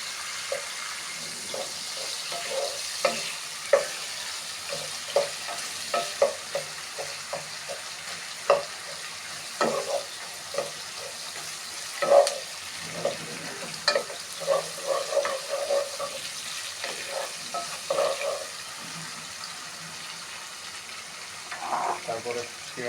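Chicken being stirred in a hot pan with cinnamon, cardamom, cloves and black pepper gives a soft continuous sizzle, with many short scraping and knocking strokes spread across it.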